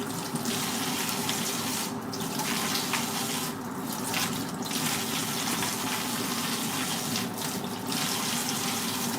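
Water from a kitchen tap runs steadily into a sink while broccoli is rinsed under it, a constant close splashing hiss with a few brief dips where the stream is interrupted.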